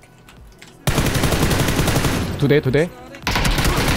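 A minigun in a video game rattles in a dense, continuous burst of rapid fire that breaks off briefly and resumes, with a voice speaking over the gunfire.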